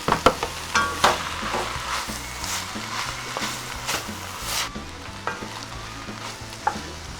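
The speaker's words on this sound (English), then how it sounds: "let's go ahead and add some of our lamb. Make sure we get all those juices in there too" Ground lamb sizzles in a hot pan for a shepherd's pie, with scraping, clacking spoon strokes stirring it at a loose rhythm over a constant crackling fry, close and clear without talk.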